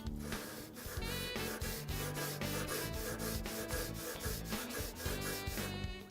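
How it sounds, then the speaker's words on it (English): Abrasive pad rubbing UltraShine cleaner into a BBQ grill surface along the grain, a steady back-and-forth scrubbing rhythm, loud and close, continuous throughout with no talking. "apply some of the UltraShine to the bottom of the pad, and I'm going to work in the grain direction, which is going back and forth this way"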